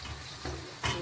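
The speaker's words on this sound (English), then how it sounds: "I will give it a stir" A pan of vegetable and chicken sauce with pepper gets a brief stir, a close sizzle with a scrape partway through and a louder burst of hiss at the end.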